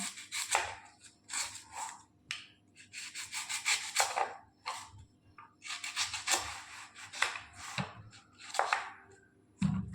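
Vegetables being cut with a knife in a home kitchen while preparing chutney: close, irregular bursts of scraping and chopping strokes, some in quick clusters and others spaced apart, with no voices.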